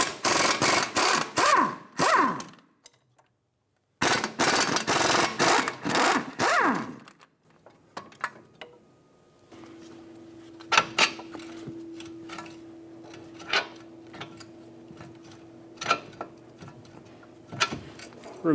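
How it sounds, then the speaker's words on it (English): A 22mm wrench and socket working lower strut bolt nuts on a 2010-2015 Lexus RX350, rapid close ratchet clicking in bursts with pauses, then scattered metallic taps and clinks. "Using a 22mm wrench and socket, I'm going to remove the nut off of these lower strut bolts"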